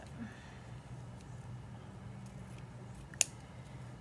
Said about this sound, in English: I'm going to trim these down just a little bit.